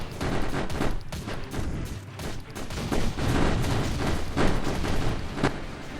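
Rocket turrets firing and explosions bursting in a video game mission on hard difficulty, a dense, continuous barrage of close booms and sharp blasts with no talk.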